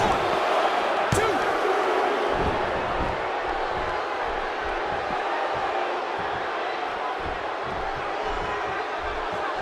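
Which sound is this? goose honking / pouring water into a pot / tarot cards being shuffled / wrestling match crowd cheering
wrestling match crowd cheering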